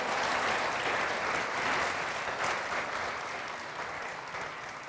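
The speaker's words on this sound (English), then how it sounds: "Big applause for Net." Steady audience applause at a live developer event, a dense wash of many hands clapping that holds throughout and tapers slightly toward the end, with no voices over it.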